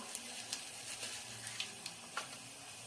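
Cumin and mustard seeds crackle in very hot oil, with garlic already added, giving a low sizzle broken by sharp little pops at irregular intervals and no speech over it.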